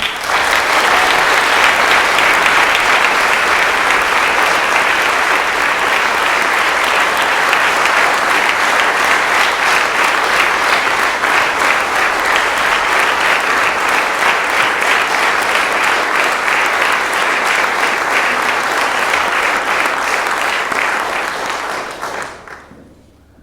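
An audience gives thunderous, sustained applause at the Plaidoi'Rire 2024 event honouring a retired investigating judge. The steady, dense clapping continues unbroken for over twenty seconds before cutting off abruptly at the end.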